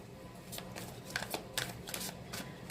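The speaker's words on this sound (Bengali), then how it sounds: "আরও দু একবার সাফল করে নেব" Tarot cards riffled and shuffled by hand, a quick run of papery flutters and soft snaps in uneven bursts, close up with no talking.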